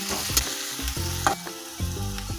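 Green garlic sizzles in hot oil while being stirred, giving a bright, close crackle in short bursts, with steady background music playing underneath.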